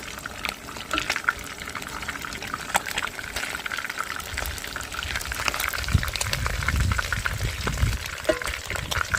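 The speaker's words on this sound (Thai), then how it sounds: "ควันเยอะมากเลยค่ะ นึกว่าเผาไร่อ้อย แต่จริงๆคือการทอดปลา" Fish fries in oil, a continuous, fairly loud bubbling sizzle that grows a little denser and deeper toward the end with no talking.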